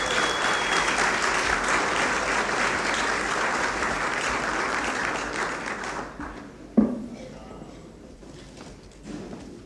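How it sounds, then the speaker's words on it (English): Audience applause for New York Lieutenant Governor Kathy Hochul at a 2018 breakfast event, dense clapping filling the room for about six seconds before fading into scattered claps and murmurs. "Please give her a round of applause."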